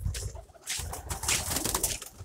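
Pigeons and doves coo softly nearby in a wooden cage as wings flap in short bursts, a brief close recording without speech.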